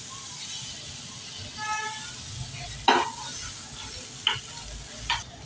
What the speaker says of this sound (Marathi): आपण एक बाजू पलटी मारून घेऊया।